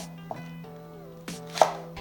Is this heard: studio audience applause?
no